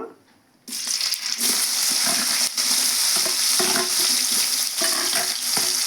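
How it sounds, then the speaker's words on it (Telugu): Precooked green bean pieces hit hot oil and fry with a loud, steady close sizzle, punctuated by scraping and stirring strokes throughout. "ఈ బీన్స్ ముక్కలు అయితే వేస్తున్నాను నేను ఇవి కొంచెం ఆయిల్లో ఫ్రై చేస్తాను"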